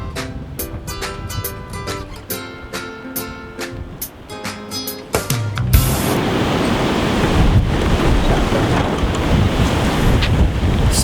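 Strong, gusty wind roars and buffets the microphone outdoors beside a National 12 sailing dinghy, rising to a loud, continuous rush after some lighter clinking and rattling at the start.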